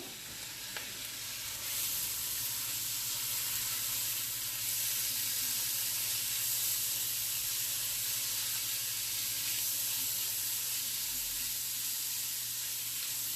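Peppers sear in a spiced pot for pozole rojo, giving a continuous even sizzle and hiss that holds steady and close, with no talking.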